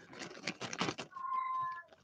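A house cat meows once, a drawn-out tonal cry that follows a burst of soft rustling and handling noise indoors, faint and close.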